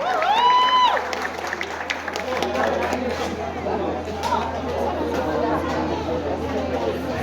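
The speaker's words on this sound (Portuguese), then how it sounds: "Uma salva de palmas aí, corredores da terra, viu?" Crowd applause at an outdoor running race podium ceremony, moderate and steady under general chatter, with a brief whistle or cheer near the start.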